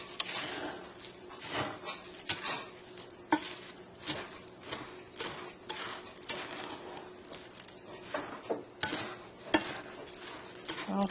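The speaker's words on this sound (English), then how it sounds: "And I'm just going to mix this up. This is a lot of sugar, a lot of peanut butter." A spoon stirs a thick sugar and peanut butter mixture in a bowl, making repeated scraping and sticky rubbing strokes at close range in an uneven rhythm.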